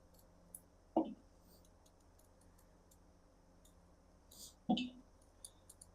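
Two quiet, separate knocks of a knife slicing a peeled onion into rings on a board, spaced several seconds apart in otherwise near silence.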